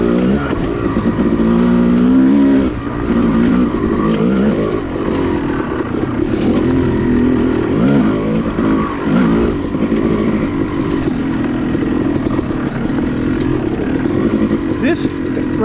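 Yamaha YZ250 two-stroke dirt bike revving on a spring woods trail ride at an OHV area, its loud raspy engine rising and falling as gears change, heard from the rider's position.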